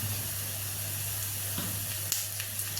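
Cumin, onion and curry leaves tempering in hot oil, a steady loud crackling hiss with a few sharp pops, close up and continuous.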